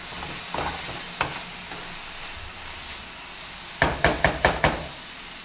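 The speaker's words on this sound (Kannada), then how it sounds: "ಟೊಮೊಟೊ ಬೇಗ ಬೇಯಲಿ ಅಂತ ಇವಾಗ ಉಪ್ಪು ಹಾಕ್ತಿದ್ದಾರೆ" Tomatoes salted and cooking in a pan give a soft sizzle, with a few scattered knocks and then a quick run of five sharp utensil taps against the pan near the end; close, no voices.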